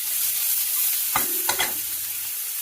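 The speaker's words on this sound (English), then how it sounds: "the first thing we're going to add into this pan here is the red onion. I want to hear that sizzle." Chopped red onion frying in a pan, a steady hiss of sizzling with a couple of sharp scraping stirs of the pan near the middle, close and clear without talk.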